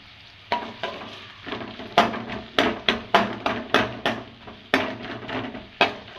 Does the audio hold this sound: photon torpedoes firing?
no